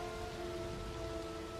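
Steady rain falls in a scene from the 1995 film Sense and Sensibility, an even, dense hiss of raindrops throughout, moderately quiet. Faint steady tones sit underneath, with no speech.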